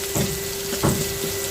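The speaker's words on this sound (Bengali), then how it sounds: "এগুলো দিয়ে ভালোভাবে একটু পেঁয়াজটা একটু ভাজবো" Chopped onion and green chillies frying in hot oil give a close, steady sizzle, with brief scraping bursts as a spoon stirs the pan.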